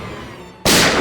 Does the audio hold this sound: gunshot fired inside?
yes